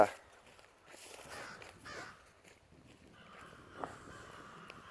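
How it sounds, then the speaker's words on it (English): Faint crows cawing at a distance outdoors, a few scattered calls over quiet background noise. "I'm just fascinated by these crows."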